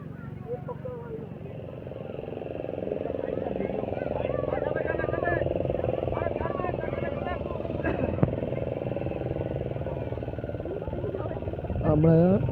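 A motorboat engine runs steadily at Digha as passengers board a boat to go see red crabs. The low, constant drone continues throughout beneath people talking nearby, with a brief clatter near the end.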